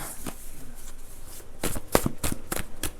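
A heavily used deck of cards shuffled close by, a steady soft riffling that turns into a run of sharper, rhythmic bridging snaps and flutters toward the end.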